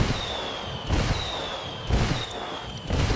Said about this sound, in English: Calling for indirect fire.